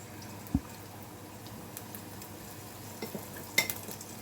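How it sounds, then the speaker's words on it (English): Fish deep frying in hot vegetable oil gives a faint, steady sizzle under a low background hiss, with a few soft pops and small clicks near a pan, no talking. "I am going to deep fry this for around 3 to 4 minutes until everything is golden color."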